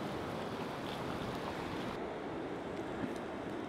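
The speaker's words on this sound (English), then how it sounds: "And then you have the backwash, which comes in, and it looks like a river, but it's actually just because of the shape of these rocks" Ocean waves wash in and backwash drains over rocks along a shoreline, a steady loud broadband rush of surf and churning water with no pauses and no talk.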